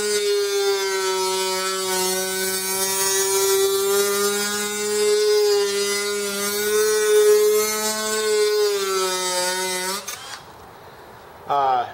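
An electric sander whines steadily for about ten seconds with a strong, even motor tone during generator set assembly, then cuts off, leaving brief quiet and a short final noise.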